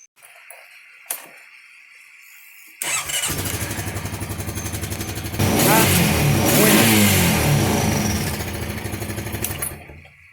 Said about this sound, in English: Says to start the ATV and rev it up approximately 20 times.